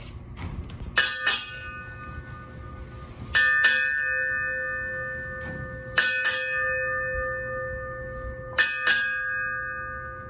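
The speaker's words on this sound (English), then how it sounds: "8 bells, used to signal the end of the watch, represents the end of the current birthday year. Sound 8 bells." A ship's bell is struck eight times at a Navy birthday ceremony, in four evenly spaced pairs of clear, ringing strikes. Each pair rings out and fades slowly into the quiet between strokes.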